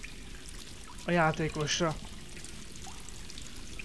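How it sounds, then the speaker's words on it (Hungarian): Water in the Tomb Raider (2013) video game sloshs and pours steadily around the player character, a constant wash under a short burst of male speech. "És a víz is milyen szépen reagál"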